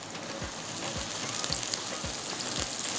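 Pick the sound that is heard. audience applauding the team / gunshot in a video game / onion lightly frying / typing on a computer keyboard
onion lightly frying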